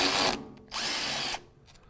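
A power tool drives out transmission valve body bolts in two short bursts of whirring, the first about a third of a second and the second a bit longer, with a brief pause between and nearby hand noise after.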